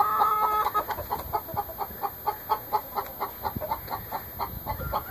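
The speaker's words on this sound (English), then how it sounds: "You guys might remember the hen house here." Hens cluck steadily in a hen house, a rapid run of short, rhythmic clucks close by with no talking, over a constant hum.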